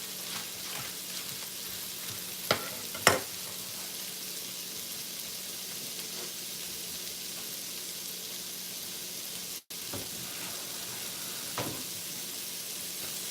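Onions frying in a pan for a chorizo pizza, a soft steady sizzle at low level with a couple of brief clinks of utensils, no talking over it.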